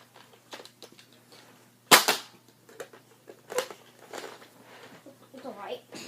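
Nerf toy gun fired indoors, one sharp snapping shot followed by a few softer pops and clatter, with a voice speaking briefly around the shots.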